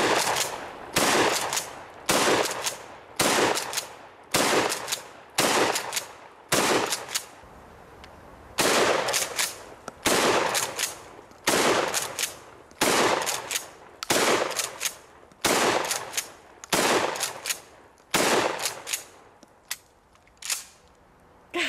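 A shotgun fires at parcels in a video game. Loud, sharp blasts repeat roughly every second in a steady series, with a short gap partway through and quiet mechanical clatter between shots.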